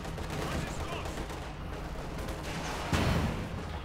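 Dense battlefield gunfire from tanks and infantry in the strategy game Company of Heroes 2, a steady loud wash of shots and impacts with a heavier blast near the end.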